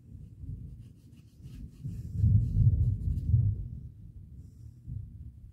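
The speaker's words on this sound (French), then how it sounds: "Il y a de l'orage." Low, rolling thunder from a thunderstorm rumbles at a distance, swelling to a deeper, louder roll midway before fading back to a soft murmur.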